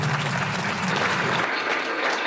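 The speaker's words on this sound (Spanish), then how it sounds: "estas imágenes sacaban aplausos" An audience applauds at the unveiling of the first images from the Vera Rubin Observatory, a steady wash of dense clapping filling the room throughout and easing slightly toward the end.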